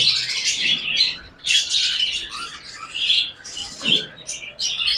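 A pair of budgerigars chirps in busy, bright bursts of chatter with brief pauses between them, close and fairly loud, at a bird market stall.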